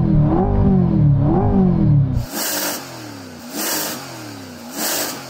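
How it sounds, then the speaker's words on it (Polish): A Chevrolet Corvette V8 revs loudly with rising and falling sweeps. It then switches to a higher, rough engine roar that swells and dips in repeated pulses, with no voices. "Posłuchajcie zatem tej V8-ki."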